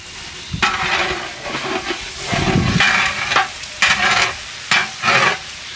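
Fried rice with carrots, green chilies and salt is stirred in a large pan for a big batch of cooking, giving repeated scraping strokes over a steady, close sizzle.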